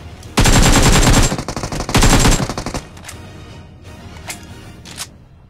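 Rapid automatic gunfire bursts out loud and close in a battle royale mobile game, two dense volleys followed by scattered quieter shots and distant cracks, with no talking.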